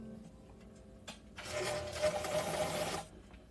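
Home sewing machine running a crotch seam on joined back pieces: a few soft clicks, then a fast steady whir that lasts about a second and a half before stopping, close and clear without talk.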